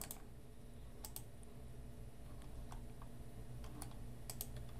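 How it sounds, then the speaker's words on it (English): Quiet, close typing on a computer keyboard, with irregular clusters of soft key clicks and a few louder taps over a low background hum, and no voices. "I was typing in the wrong place"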